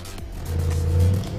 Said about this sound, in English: Listen to this beast fire up.